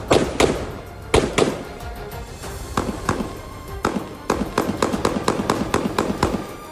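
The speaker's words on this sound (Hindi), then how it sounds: "ये गोलीबारी लंबी चली और पूरा इलाका गोलियों की तड़तड़ाहट से गूंज उठा।" Automatic gunfire in a conflict area in the Israeli–Palestinian territories, heard as sharp cracking bursts and rapid strings of shots echoing at mid distance, irregular at first and then quickening into dense volleys, with no talking.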